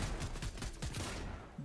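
Rapid bursts of gunfire crackle in a Fortnite match, several quick shots in a row that trail off near the end, fairly faint and distant.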